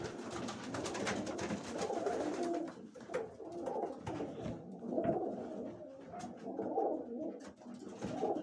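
Pigeons coo repeatedly in their loft, soft overlapping calls close by amid light rustling and wing movement.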